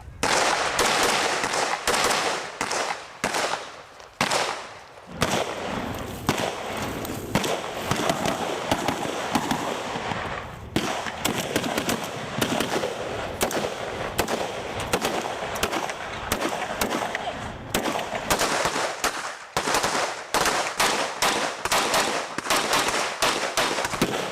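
Rapid bursts of blank gunfire during an action-scene shoot for a film, dense, loud cracking volleys in long runs with brief pauses, close and dominating.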